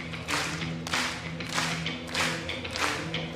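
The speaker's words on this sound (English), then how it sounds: "Hear the crowd start clapping to the beat," A pro wrestling crowd claps in unison to a steady beat, roughly two claps per second, dense and reverberant like a large hall.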